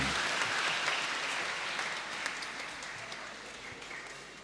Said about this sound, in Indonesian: kita beri tepuk tangan untuk Yesus Kristus yang sudah hadir di tengah-tengah kita